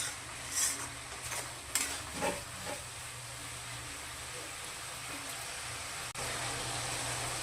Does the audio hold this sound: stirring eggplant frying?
yes